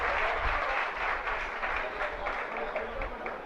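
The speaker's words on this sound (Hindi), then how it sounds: "जोरदार तालियां ग्वालियर जैन समाज के लिए।" Loud, steady applause from a large gathering of the Gwalior Jain community at a religious question-and-answer session, dense and sustained with no voices over it.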